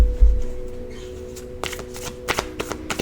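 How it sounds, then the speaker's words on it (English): Tarot cards being drawn and handled on a table, a quick series of crisp slaps and shuffling flicks close to the microphone over a low steady hum, with no talking. "I'm going to pull all the cards before I kind of talk through them"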